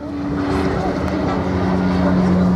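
Loganair Saab turboprop on landing approach in FlightGear, a steady engine drone with a sustained propeller hum, fairly loud and constant throughout with no pauses.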